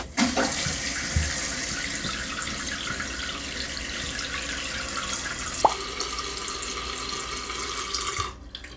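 Water rushes steadily into a tank for several seconds, a continuous hissing flow that cuts off near the end.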